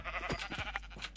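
Sheep in the video game Minecraft bleat in a few short, close bursts over a faint steady background hum, with no talking.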